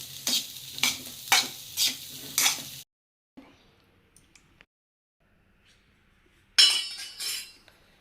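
Fasting-dish ingredients are sautéed in a pan with five rhythmic stirring strokes over a soft sizzle. A long quiet stretch with a few faint taps follows, then a brief, louder clatter of utensil against pan.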